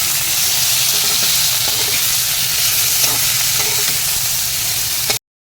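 Jackfruit pieces fry with salt and turmeric in a pan, making a loud, dense, continuous sizzle with faint stirring taps, close by, ending abruptly in silence.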